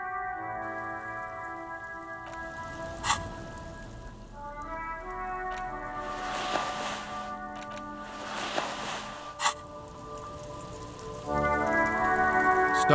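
Rain pattering steadily on surfaces in the game Disco Elysium, with a soft continuous hiss and scattered drops under a sustained musical background, swelling louder near the end.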